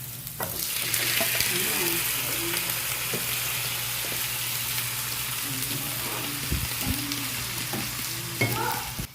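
Baby squid sizzles steadily in a pan with tomato, onion and garlic, a dense, even frying hiss close up with occasional stirring scrapes and a brief voice near the end.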